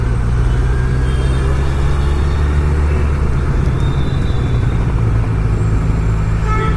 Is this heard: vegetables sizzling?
no